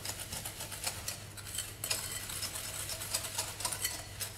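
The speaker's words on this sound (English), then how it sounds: "Just find a better whisk. Just mix those together, okay?" A whisk mixes cookie ingredients with melted butter in a bowl, making quick, rhythmic scraping and clinking strokes at close range.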